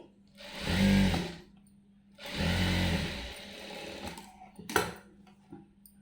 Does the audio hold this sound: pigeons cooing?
no